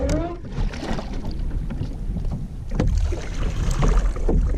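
Paddling a Pelican Castaway fishing kayak on open water, with steady paddle splashes and water churning close by under wind noise on the microphone, and a brief voice near the start.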